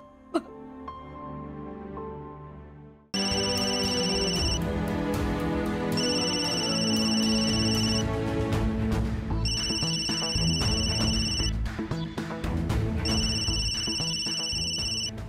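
A telephone ringtone plays in a repeating electronic pattern of bright tones, loud and steady for most of the clip, after a short quieter stretch at the start.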